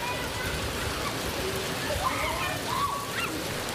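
Steady rain drums on the canvas roof of a tent classroom at a northern Thai school, a dense, even hiss with faint scattered patter throughout and no break.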